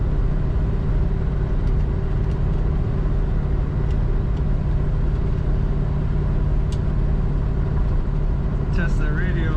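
A 1962 Chevrolet Impala two-door hardtop engine runs smoothly at a steady, low hum, heard from inside the car. The drone is even and continuous throughout, with no surges.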